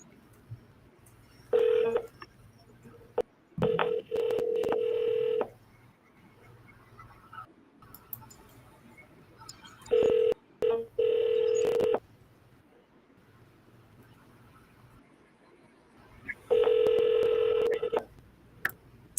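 Touch-tone keypad of a telephone being dialed for a sales cold call, with several bursts of loud DTMF beeps spread across the stretch and quieter background hum between them, no speech.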